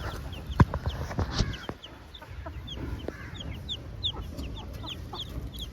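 Newborn chicks on a poultry farm, fed starter feed, chirp in many high, short peeps scattered throughout, with occasional louder knocks and rustles nearby.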